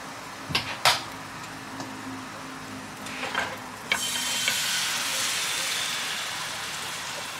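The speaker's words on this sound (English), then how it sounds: "I'm just going to put it in the skillet that I cooked the salmon in." A few clinks and clatters, then a loud steady sizzle as cream hits a hot skillet used for cooking salmon and keeps frying.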